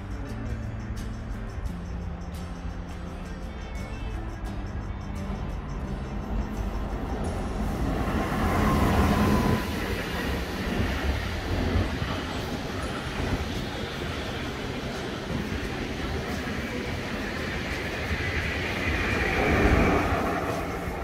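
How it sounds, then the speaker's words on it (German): An Intercity train pulls into Othmarsingen station in Switzerland. A low rumble builds into a loud, broad roar of passing wagons about halfway through and holds at that level with no voices. "da kommt gerade ein Zug, so es aussieht, der Intercity."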